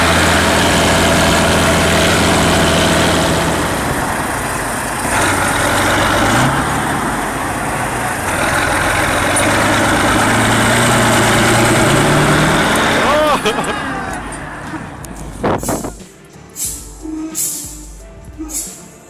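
A Kirovets K700 tractor engine drones heavily and continuously as the machine claws its way free in snow, with someone talking over it and sharp knocks and bangs near the end.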